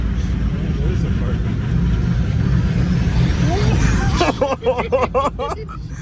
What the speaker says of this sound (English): Is there a car coming?